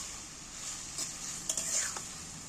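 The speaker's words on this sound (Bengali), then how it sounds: "ভালো করে একটু নাড়াচাড়া করে ভালো করে ভাজবো" Long beans with salt being stir-fried in a wok for fried rice give off a steady close hiss of sizzling oil, with a few quick scraping stirs toward the end and no talking.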